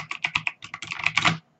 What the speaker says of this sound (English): So on a regular keyboard, we have regular keys. We can just keep on typing stuff